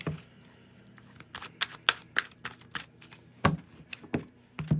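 Crisp riffling clicks and slaps come in irregular bursts, close and fairly quiet, like cards being shuffled by hand.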